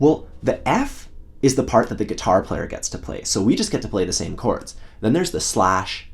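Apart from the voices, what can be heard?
No everyday noise stands out behind the speech.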